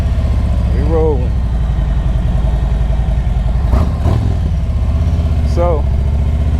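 A motorcycle engine idles with a steady low rumble throughout, close and loud on a hot day outdoors, with a voice briefly heard over it.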